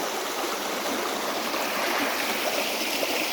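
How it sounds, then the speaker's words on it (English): A creek runs over rocks through a historic gold-mining town, making a steady, broad rushing and burbling wash that holds an even level throughout with no voices. "this is the creek that they sort of built the town on. And it runs through the whole town."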